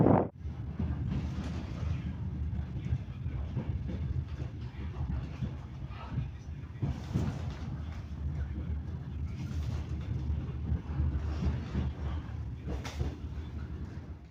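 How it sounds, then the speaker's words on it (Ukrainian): A steady low rumble with a faint rattling hiss of a departing train heard from inside, continuous for the whole stretch. "Ну зараз вже от мій поїзд стоїть на старті, буду рушати додому."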